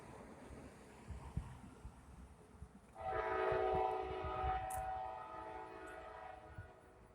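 A train on Norfolk Southern tracks passes in the distance, a low rumble under steady ambient noise, then a sustained horn blast rising for a couple of seconds before fading back to rolling rumble.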